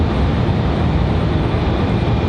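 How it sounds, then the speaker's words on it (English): CRJ regional jet departing Raleigh-Durham International, a loud continuous engine roar with steady broadband rumble and no talk. "Departure for the CRJ."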